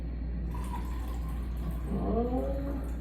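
Kangen water pours into a glass in a short, soft trickle, with the liquid's pitch rising as it fills near the end.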